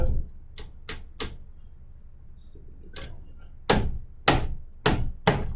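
Sharp hammer strikes ring out one at a time at uneven intervals while building a birdhouse, a few light taps early and several louder blows toward the end.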